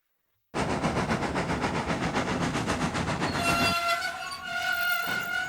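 A steam train running along rails: loud, rapid rhythmic chuffing and rumble that starts abruptly, then gives way to a sustained whistle-like tone near the end.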